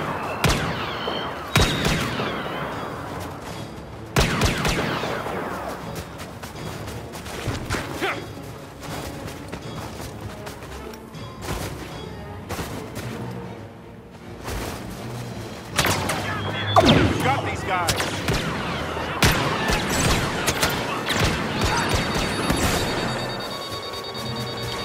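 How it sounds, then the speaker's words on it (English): Blaster fire rattles through a Star Wars Battlefront match, with dense clusters of sharp electronic shots, busy combat noise and occasional voices mixed throughout. "Like blaster fire? These guys are nothing."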